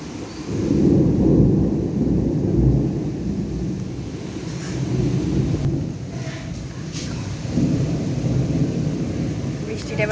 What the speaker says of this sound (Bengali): এবার যদি মেঘটা ডাকে তবে তোমাদের সাথে শেয়ার করছি।